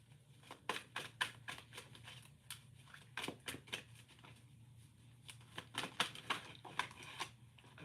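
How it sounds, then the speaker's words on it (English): A deck of cards being shuffled, giving a quiet series of quick, crisp riffling snaps and flicks in irregular bursts, close by in a calm room with a low steady hum underneath. "I'm going to shuffle these and I'm going to pick the top 4 cards"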